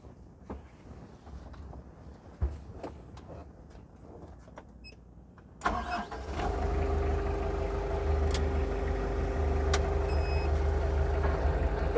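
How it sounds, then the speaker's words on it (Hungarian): A Maximal M25 rough-terrain forklift cranks with a sharp jolt and its engine settles into a loud, steady diesel drone, preceded by scattered clicks and knocks, with no talk. "Indítsuk be, kicsit mozgassuk meg a gépet, hogy nézzük meg, mit mutat,"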